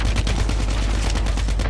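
Rapid automatic gunfire in COD Mobile, a dense, loud, continuous burst of shots at a steady fast rhythm filling the whole moment, with no talk.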